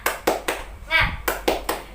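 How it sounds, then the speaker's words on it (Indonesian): Classroom of young pupils does a rhythmic group clap, sharp bursts in a patterned beat broken by a short spoken cheer in the middle, then more evenly spaced claps. "Oke, tepuk semangat."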